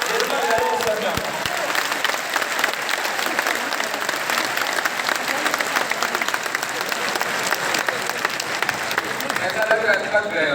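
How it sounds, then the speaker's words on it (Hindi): A large seminar audience in Patna applauds steadily and loudly, a dense, continuous wash of clapping from a big crowd that fills the room without a break. "जोरदार तालियों से स्वागत कीजिए"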